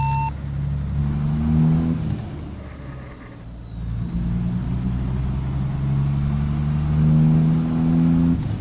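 A 2024 truck engine rumbles steadily in a highway convoy, its deep drone rising and falling with shifts in load over several seconds, heard from nearby with no talk.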